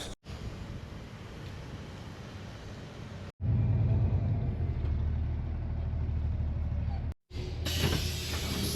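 Bus engine rumbling while riding, a continuous low drone with road and wind noise that cuts out briefly twice and shifts in character between sections.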